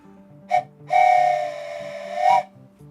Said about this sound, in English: this is probably the last train whistle of the night